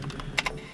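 A couple of sharp computer keyboard keystrokes, close and crisp, landing over a faint background hush with no talking.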